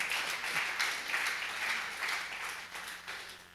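A church congregation applauds, many hands clapping in a dense, steady wash that fades slightly toward the end.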